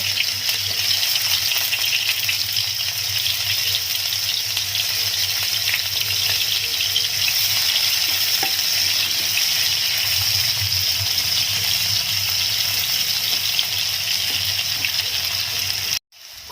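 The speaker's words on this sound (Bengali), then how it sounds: "এবার পেঁয়াজ কুচিগুলো দিয়ে ভালো করে" Chopped onions fry in hot oil with cumin seeds for a Rajasthani kachri sabji, giving a steady, loud broadband sizzle that runs unbroken for about sixteen seconds before cutting off abruptly near the end.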